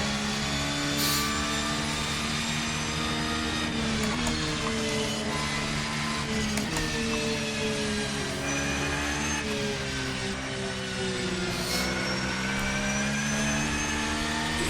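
Racing engine of a 2023 Darche 992 GT3 R in Assetto Corsa, held at high revs with steady harmonic tones that rise and fall through gear changes and corners, loud and continuous with no talk.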